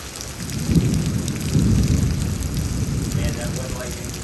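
A thunderstorm over Houston, with steady heavy rain and low rolling rumbles of thunder swelling and fading, loud and close.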